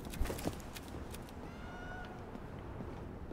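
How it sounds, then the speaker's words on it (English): A cat meows in the video game Indiana Jones and the Great Circle, one soft drawn-out mew in the middle, faint under quiet footsteps and ambient game sound. "I hear a cat."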